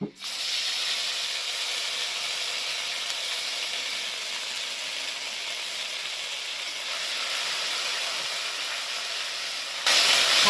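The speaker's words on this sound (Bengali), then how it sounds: "এইবার এর মধ্যে দিয়ে দিচ্ছি প্রথমে রসুন বাটাটা আগে দেবো" Garlic paste sizzles and fries with spices in a hot pan, a loud steady hiss that continues throughout and briefly intensifies near the end, with no talking.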